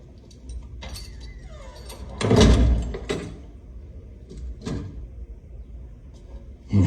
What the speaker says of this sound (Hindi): जरा दरवाजा बंद करके जाना।